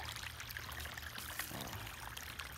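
Water draining from a flooded, freshly transplanted onion field, a steady rushing pour and trickle that runs close and continuous with no pauses.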